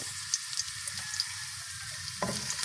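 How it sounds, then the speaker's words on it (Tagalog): Garlic frying in a pan, a continuous bright sizzle with light crackles and a brief stir near the end, close with no talk. "Luno natin si bawang."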